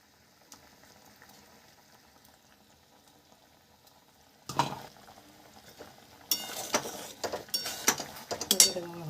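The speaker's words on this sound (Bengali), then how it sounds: "এটা ফুটে গেছে, এবার পনিরগুলো দিয়ে দিচ্ছি।" Paneer curry simmering in a pan on the stove, a quiet bubbling at first, then louder clatter and sizzle as pieces go in, with scraping and stirring bursts toward the end.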